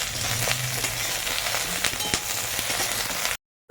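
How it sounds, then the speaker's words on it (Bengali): Pointed gourd sizzles and crackles in hot oil, a steady frying hiss with occasional spatters and stirring scrapes, close up, ending abruptly. "হালকা নেড়ে চেড়ে ভাজা ভাজা করছি"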